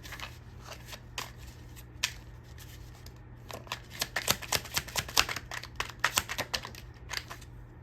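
Cards are shuffled for a card reading, with scattered light flicks at first and then a quick run of crisp riffling clicks, close and fairly quiet over a low steady hum.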